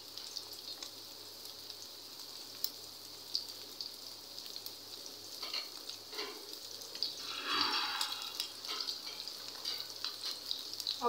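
Beef kababs frying on a tawa give a continuous crackling sizzle, steady and close for the whole stretch, swelling briefly louder partway through, with occasional sharp pops and no talking.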